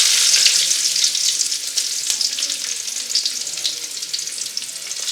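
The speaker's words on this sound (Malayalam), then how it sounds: "കടുക് പൊട്ടി ഉള്ളി ഇട്ട് കൊടുക്കുന്നു." Chopped shallots fry in hot oil with popped mustard seeds for a Kerala thoran, giving a close, steady crackling sizzle that fades slightly, with no talk.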